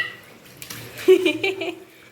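Water is poured over a cat's face during its first bath, giving a short burst of close splashing and trickling while someone talks.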